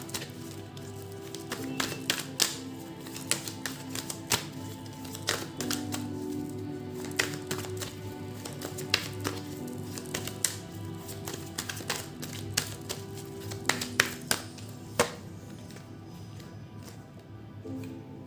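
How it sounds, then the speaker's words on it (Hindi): Tarot cards being shuffled by hand, a run of quick papery taps and clicks scattered over steady background music with a low hum. "till the time I shuffle the cards"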